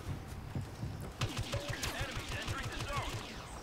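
Rapid bursts of gunfire from the Star Wars Battlefront video game crackle at low volume, a quick run of repeated shots with a muffled voice faintly mixed in.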